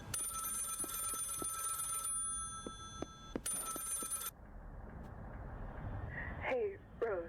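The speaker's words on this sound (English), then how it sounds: "Yeah, phone call." A telephone bell rings in repeated bursts, each a bright sustained ring separated by short gaps, with a voice speaking over the background.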